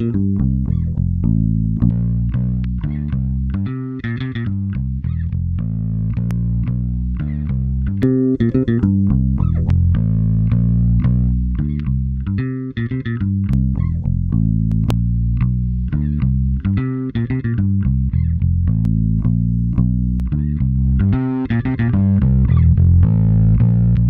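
A free bass distortion pedal plugin adds a gritty, growling distortion to a continuous musical passage, which plays loud and unbroken throughout with no speech.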